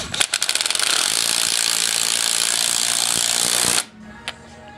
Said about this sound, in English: tighten it, grab your impact,